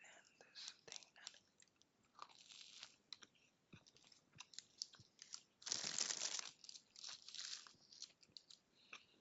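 Close, crunchy chewing and biting of South Indian food dipped in a spicy chutney of curry leaves, green chili, ginger and garlic, with crinkling and soft whispery voices between bites and a louder burst of crunching midway.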